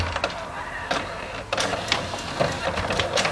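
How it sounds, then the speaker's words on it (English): An inkjet printer runs a print-head cleaning cycle during a systems check: a string of mechanical whirs and clicks, with several sharp ticks and motor bursts in an uneven rhythm, close by. "systems check where I basically clean the printer head, and it's going to print all the colors out for me"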